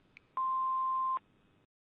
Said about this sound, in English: please leave your name after the beep